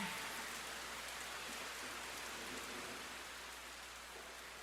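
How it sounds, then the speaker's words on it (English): Steady rain falls in a dense, even hiss of drops on a surface, moderately loud and unbroken, with no voices. "Rain is coming."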